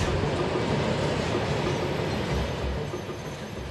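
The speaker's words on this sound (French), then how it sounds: "They say this is the longest train in the world." A very long freight train in Mauritania rolls steadily past on its rails, giving a dense, continuous rumble and rattle of wagons close by, loud and unbroken, with no talking.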